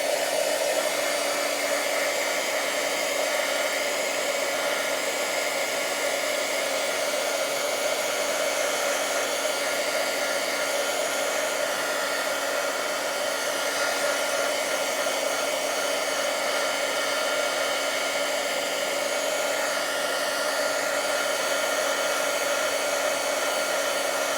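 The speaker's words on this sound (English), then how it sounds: "I'm just going to squirt this with the heat tool again just to dry it off." A heat tool blows steadily to dry paint on a craft background, a loud, continuous whirring rush with no break and no voices.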